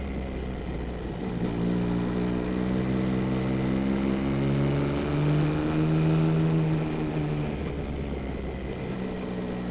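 Yamaha XSR900 motorcycle engine pulling hard out of corners on twisty mountain roads, a steady loud drone whose pitch rises and shifts as the rider accelerates through the gears, with wind noise underneath.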